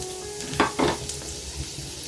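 Three cloves of garlic hitting about two tablespoons of hot oil in a pan for vegetable Hakka noodles, giving two short, close sizzling bursts in quick succession that fade into a quiet background hiss.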